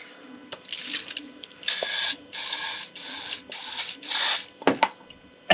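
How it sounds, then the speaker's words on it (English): Several short hissing bursts of penetrating oil sprayed onto vintage engineers' tools, each lasting about half a second, repeated in a steady series up close, with a few small clicks in between. "I'm going to spray a bit in"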